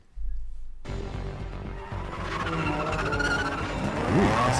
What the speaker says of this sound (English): Ooh, that's a car.